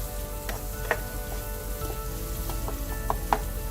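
Tomatoes with a little salt sizzle and fry steadily in a pan while cooking down, with a few soft stirring clicks and scrapes over the continuous crackle.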